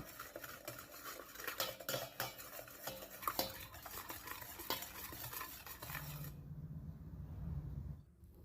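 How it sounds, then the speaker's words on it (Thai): A spoon stirring tuna salad dressing of lime juice and sugar in a bowl, with rapid, quiet clinking and swishing strokes that trail off into a soft low rumble. "คนทุกอย่างให้เข้ากันแล้วก็ให้น้ำตาลละลาย"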